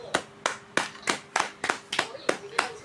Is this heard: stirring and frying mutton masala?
no